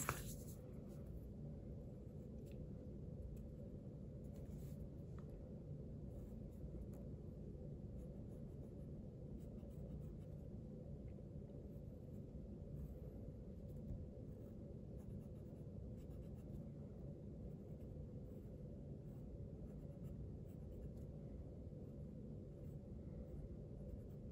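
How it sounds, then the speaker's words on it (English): A pencil draws carrots on paper for a garden landscape, giving a faint, steady scratching that continues throughout under a low, constant background hum, with no speech. "here I'm going to draw some carrots"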